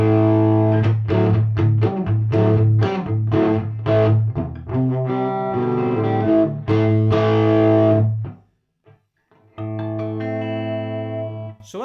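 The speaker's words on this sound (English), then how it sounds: "so that's a reference tone right there" Electric guitar played through a Bogner Neve Wessex distortion pedal set to a JTM45-style drive at moderate volume: chords and single notes strummed steadily for about eight seconds, a brief pause, then a sustained ringing chord, close and loud.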